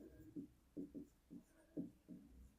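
Pen strokes on paper while the given values of a math problem are written down, a series of soft, faint scratchy bursts in an irregular rhythm, close and quiet.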